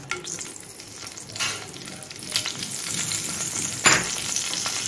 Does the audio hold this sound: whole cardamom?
yes